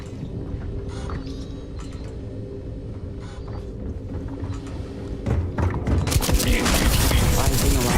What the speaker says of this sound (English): Ooh, you have a minigun.